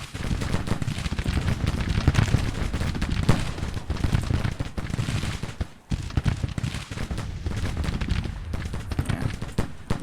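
Heavy, continuous gunfire and explosions from a war video game set at the Battle of Washington D.C., with dense overlapping rifle volleys and booming howitzer blasts that keep up steady, loud, chaotic noise for the whole stretch.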